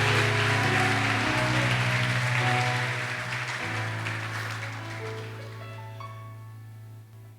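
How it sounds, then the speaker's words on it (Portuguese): Church congregation at a worship service giving a strong round of applause, a dense sustained wash of clapping that fades gradually while steady organ or keyboard chords hold underneath. "bata uma forte salva de palmas"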